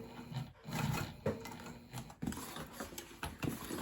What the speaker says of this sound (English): I'm gonna start sewing on one of my side seams